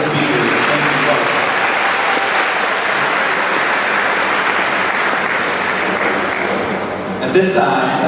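At a middle school promotion ceremony, a crowd applauds the student speakers with loud, continuous clapping. It thins toward the end as a voice comes in over the fading applause.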